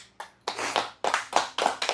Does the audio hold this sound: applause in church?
yes